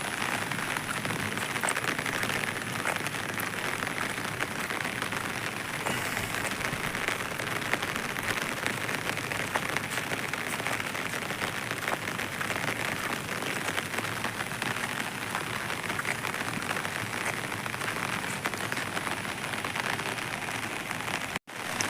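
Steady rain pours down, a dense continuous hiss of drops hitting surfaces, loud and unbroken throughout with no voices.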